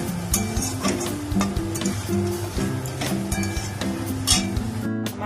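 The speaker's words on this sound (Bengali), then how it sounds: "এবার আমি ভেজে রাখা পনিরটা দিয়ে দিলাম। সামান্য একটু জল দেব, বেশি জল দেব না।" Fried paneer and capsicum stirred in a pan, a steady sizzle with the scrape and clink of a spatula against the metal in a regular rhythm, close and continuous, with no voices.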